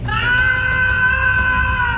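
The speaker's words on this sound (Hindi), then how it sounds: "सुधीर के गले से एक भयानक दर्द भरी चीख पूरे जंगल में गूंजी" A man lets out a terrible scream of pain that echoes through a forest, a single shrill, sustained cry lasting about two seconds, loud and alone.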